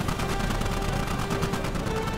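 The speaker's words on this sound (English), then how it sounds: "use the machine gun. It does more damage than your rifle" Rapid machine gun fire in the Starship Troopers video game, a dense continuous burst of shots, loud and close, filling the whole stretch.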